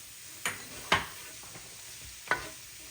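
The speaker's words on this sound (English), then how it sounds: "Go ahead, stir this all up" A spoon stirs cabbage roll filling seasoned with black pepper in a pan, giving three or four sharp scraping strokes over a faint sizzle, close and otherwise quiet.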